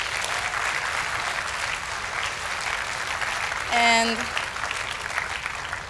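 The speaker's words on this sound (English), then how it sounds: "I will ask for you to give them a big applause one more time" An audience at a school music concert in Hyderabad applauds steadily with a dense, even wash of clapping throughout, and a brief tonal sound cuts in partway through.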